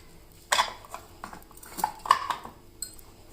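A spoon mixing tomato pickle in a bowl, scraping and clinking against the sides in a few irregular bursts, close and fairly quiet.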